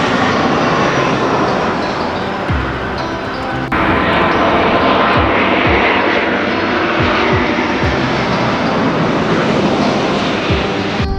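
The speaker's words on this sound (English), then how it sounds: "people go and sit and watch the airplanes" Loud, roaring aircraft engines pass close overhead at LAX airport, a broad rumble that swells and shifts as a plane flies by and descends to land.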